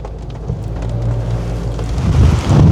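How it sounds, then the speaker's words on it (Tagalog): Strong wind roars against the microphone in heavy, low rumbling gusts that build toward the end, with rain mixed in. "Lakas ang hangin"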